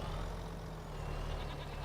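A tractor engine in Farming Simulator 25 rumbles at a steady low idle, continuous and fairly close, with no talk.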